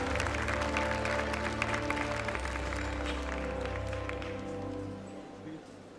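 Audience applause at the FIA awards ceremony for the Formula 2 and Formula 3 CEO, a dense steady wash of clapping over a low hum, fading toward the end.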